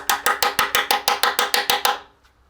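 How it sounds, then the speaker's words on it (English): An extractor socket hammered onto a rounded bolt, about a dozen evenly spaced, ringing metallic taps in quick rhythm, loud and close, then fading to quiet. "you just tap the socket on the bolt"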